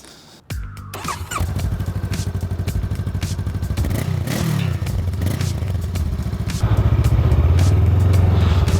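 A Honda Rebel 500 ABS motorcycle starts up with a sharp clatter, then its engine runs with a steady rumble as it rides off, revving louder and pulsing toward the end, close and without talk.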